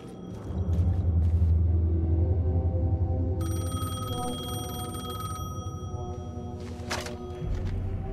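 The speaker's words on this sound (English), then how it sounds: "The payphone was ringing." A payphone rings in the video game Alan Wake 2, a bright electronic bell tone sounding in bursts over a low ambient rumble, with no talk.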